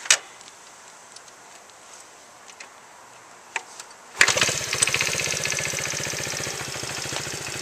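A motorcycle with a new battery, adjusted valves and clutch, starts up and settles into a steady, fairly loud idle, its rapid pulsing running without pause for several seconds after a quiet lead-in.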